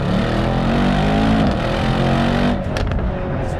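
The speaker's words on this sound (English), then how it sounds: "the exhaust tone makes the driving experience feel like a sports car" Mercedes-AMG E63 S wagon launching from a stop in Sport Plus mode through second gear, its exhaust roaring loud and close as engine revs climb steadily, then easing off near the end.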